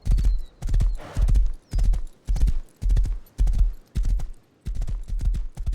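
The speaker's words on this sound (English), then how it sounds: "Luckily I've got a horse. I should be able to hightail it out of here." Horse galloping in the survival game Rust, with heavy rhythmic hoofbeat bursts in a fast, even cadence, close and loud with no talk.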